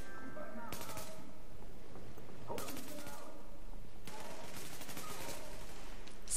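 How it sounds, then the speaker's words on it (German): Gunfire in The Division on PS4, several bursts of precise shots cracking out at intervals amid game ambience, with a voice talking over it. "Ein paar präzise Schüsse abgesetzt."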